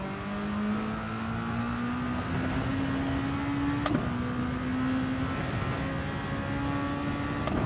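Race cars accelerating from a standing start in Gran Turismo 7, including a Lamborghini and an Acura NSX, with a continuous rising engine whine and a gear change midway, loud and steady throughout.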